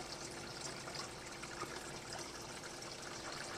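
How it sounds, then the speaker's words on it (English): Steady, soft trickling and gurgling of water draining slowly through landscaping fabric, a continuous low wash with no talking. "So you can actually hear it drain"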